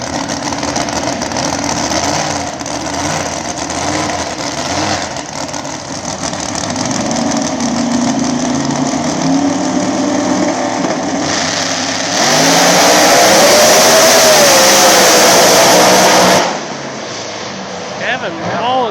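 Small-tire radial drag race car making a shakedown pass at Thunder at the Rock, loud engine roaring steadily and rising to a sharp, intense peak before backing off, with a crowd and announcer voice mixed underneath.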